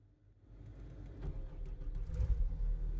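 A CAT skid steer diesel engine cranks and catches, its low rumble building steadily from quiet to a sustained, fairly loud idle over a few seconds.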